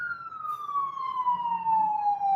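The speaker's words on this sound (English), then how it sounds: "Excuse the ambulance." An ambulance siren passes on a Baltimore street as a single long wail that slowly falls in pitch, moderately distant, with faint traffic rumble underneath and no talking.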